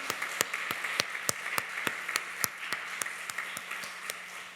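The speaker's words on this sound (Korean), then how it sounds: "하나님께 영광의 박수 올려드리겠습니다." Scattered applause from a church congregation during a Sunday worship service, sparse distinct claps in a loose rhythm over a faint steady hum, moderately quiet and unaccompanied by voices.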